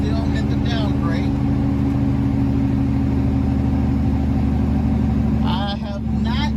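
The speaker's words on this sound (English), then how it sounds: "I've been switching back and forth with my Jake brake from high to low." Heavy truck descending a steep downgrade with its Jake brake engaged, a deep, steady rumbling drone running continuously while someone talks over it.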